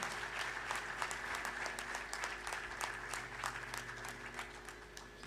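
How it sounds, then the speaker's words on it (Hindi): An audience at a memorial trust event applauds for an honored woman, the clapping faint and distant beneath a steady hum, continuing evenly throughout. "एक बार जोरदार तालियां हो जाए श्रीमती रेखा जी राठी के लिए"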